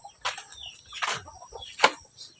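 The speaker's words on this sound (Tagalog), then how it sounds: "Mga manok. Manok ko." Several chickens cluck and squawk in short bursts, close by, with one sharper call near the end over faint background noise.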